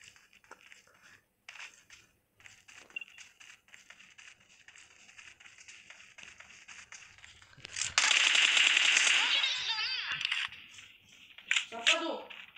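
Gunfire in the video game PUBG comes as a loud burst of rapid shots and crunching impacts late in the clip, after quieter stretches with players talking.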